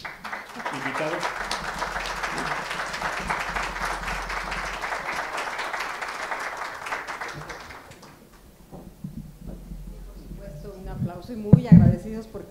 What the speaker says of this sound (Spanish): un aplauso aquí para nuestros invitados